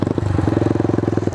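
A Genata XRZ 125 motorcycle fitted with a Lextech exhaust runs close by, a loud, rapid, evenly pulsing engine thrum that holds steady for the whole moment.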